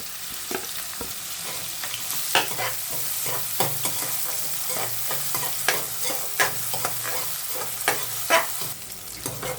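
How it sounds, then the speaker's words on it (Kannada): Finely chopped onions frying in hot oil for a chicken fry, a continuous close sizzle broken by frequent rhythmic scrapes and taps of a spatula stirring the pan, with no voices. "ಈರುಳ್ಳಿನ ಸಣ್ಣದಾಗಿ ಹೆಚ್ಚಿಟ್ಕೊಂಡಿದೆ ಅದು ಹಾಕೋಣ ಹಾಕ್ಬಿಟ್ಟು ಸ್ವಲ್ಪ ಫ್ರೈ ಮಾಡ್ಕೊಳ್ಳೋಣ"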